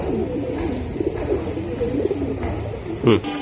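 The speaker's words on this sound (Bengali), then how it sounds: "এটা জিরা গলা কবুতর ভাই" Giribaz pigeons of the jira-gola type cooing close by, soft repeated throaty coos over a steady background murmur, with one louder coo near the end.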